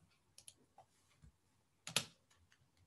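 A computer keyboard clicks quietly in a few scattered keystrokes, with a slightly louder cluster of taps near the end, faint and close with no talking.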